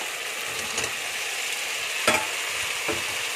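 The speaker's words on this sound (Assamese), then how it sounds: "ইয়াতে মই মাংসখিনিৰ লগত মছলাখিনি 10-15 মিনিটমান ভাজিম" Steady sizzling of chicken frying with spices in a pan, with a few brief scraping stirs, no voices.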